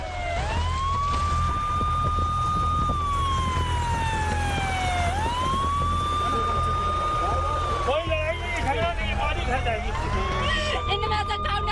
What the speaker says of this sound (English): Ambulance siren ringing in the air.